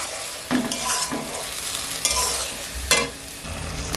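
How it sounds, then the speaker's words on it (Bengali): Ground spice paste stirred and fried in a pan, a loud sizzle broken by repeated scraping strokes of a spoon against the pan at roughly one-second intervals. "একে একটু নেড়ে কষিয়ে নিতে হবে"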